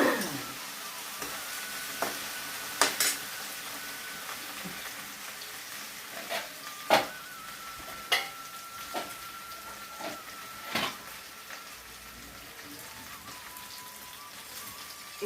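Coriander seeds sizzle and crackle as they fry in a pan, a steady soft hiss broken by scattered sharp pops throughout, fairly quiet and close with no talking.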